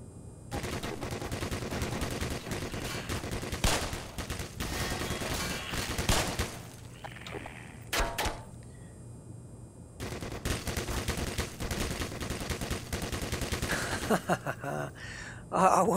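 Bursts of rapid automatic gunfire ring out in the Black Mesa Half-Life remake, loud sustained volleys broken by short pauses and a near-silent gap midway.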